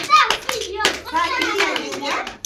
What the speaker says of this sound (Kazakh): 1, 2, 3 қан шапалақ ұрайық